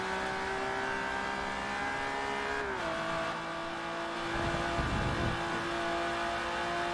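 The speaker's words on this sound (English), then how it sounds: "This is one hell of a quick car." A Ferrari FXX race car in Forza Motorsport 3 screams at high revs, its pitch dropping with an upshift and then climbing again, loud and continuous with a brief tire squeal and no voices.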